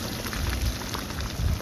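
Steady crackling sizzle of quail frying in a pan, a dense hiss with small pops throughout, close and fairly quiet.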